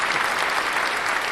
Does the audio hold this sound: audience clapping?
yes